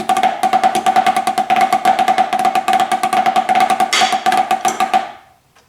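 Snare drum rudiment measures run together in a fast, crisp, steady stream of close strokes with flams and accents, ringing with a bright snare tone before stopping cleanly.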